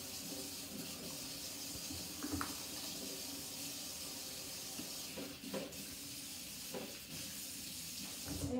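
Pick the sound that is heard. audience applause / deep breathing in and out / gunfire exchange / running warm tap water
running warm tap water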